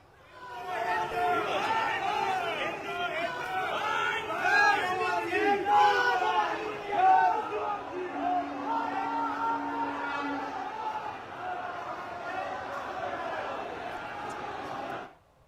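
Crowd of protesters holding banners and placards chant slogans of condemnation in front of the High Commission in London, a dense rhythmic mass of many voices throughout, with shouting swelling and easing before cutting off near the end.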